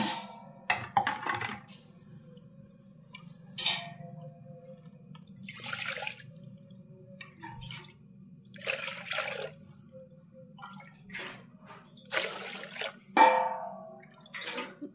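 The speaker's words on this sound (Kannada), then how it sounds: "ಇದರಲ್ಲಿ 4 ಕಪ್ ನೀರು ಹಾಕ್ತಾ ಇದ್ದೀನಿ." Water poured into a cooking pot for two glasses of rice, four cups going in over a low steady hum, with intermittent splashing gushes and a few clinks, no talking.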